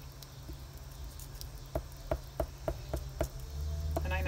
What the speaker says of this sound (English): there's cicadas.